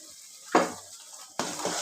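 Curry leaves dropped into hot oil for a quick Tamil chutney, giving two sharp bursts of sizzling and spitting oil, each fading gradually, close up with no talking.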